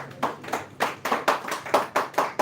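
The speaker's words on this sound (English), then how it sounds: "You can clap for him." Audience at a Nigerian Youth Parliament stakeholders meeting in Edo South claps in a steady, rhythmic group pattern, about eight even bursts of hand claps, moderately loud and close, with no talk over it.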